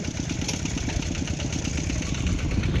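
A tractor engine chugs at a steady idle-like pace nearby, its low mechanical thrum pulsing evenly and continuously on its own.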